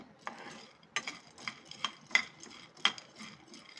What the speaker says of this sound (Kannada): ಈಗ ಹುರ್ಗಡ್ಲೆ ಕೂಡ ಹುರ್ಕೊಳ್ಳೋಣ ಸ್ವಲ್ಪ ಬೆಚ್ಚಗಾದರೆ ಸಾಕು